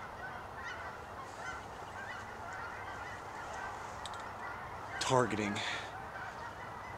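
Canada geese honking on a clear day during a western Washington goose hunt, with a loud cluster of honks from nearby birds rising over a steady outdoor background and a faint word spoken.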